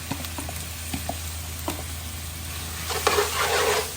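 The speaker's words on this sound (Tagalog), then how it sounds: "Gisa na natin yung chicken." Chicken sautés in a pan for pancit palabok, a steady frying sizzle with scattered scrapes and stirs, swelling into a louder, brighter hiss near the end.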